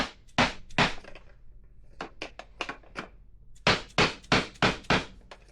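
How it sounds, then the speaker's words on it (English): Steel hammer blows driving loose-fitting bushings home into a KLR 250 motorcycle fork, a close series of sharp strikes in irregular bursts, some paired, shifting from hollow ringing toward a duller thunk, with no talk. "Tell by the pitch change when I hammer that they're home."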